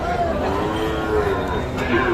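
A Sahiwal bull calf, about eight or nine months old, moos in drawn-out low calls, close by, with faint crowd chatter at a cattle market in the background.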